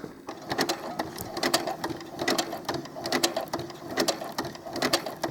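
A sewing machine stitching doll clothes at slow speed, a close, steady series of rhythmic mechanical clacks with a faint whirring between stitches.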